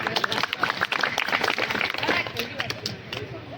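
An audience at a Hindi poetry recital claps in a dense burst of applause, with a voice speaking over it.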